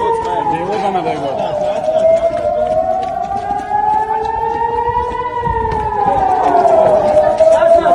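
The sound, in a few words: rocket attack air raid siren in Ofakim, Israel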